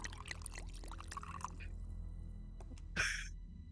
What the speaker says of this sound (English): Water sound